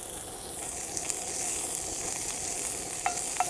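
Food frying in a pan during off-grid cooking, a steady broadband sizzle holding throughout with a few brief sharp pops and clicks near the end, no voices.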